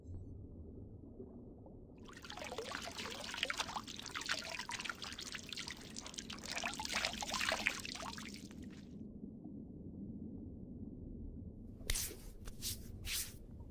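Sterile water poured in a steady trickle for several seconds, close and soft, followed by a few quick drips or taps, with a quiet ocean-like hiss underneath.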